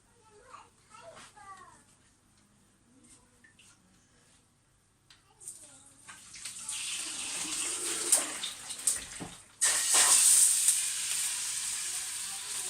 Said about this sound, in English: I clean the pan, I throw water straight in it.